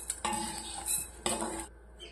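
A metal spoon scrapes and scoops roasted rice out of a pan, with a few soft clinks and rustling scrapes up close at low volume and no talk.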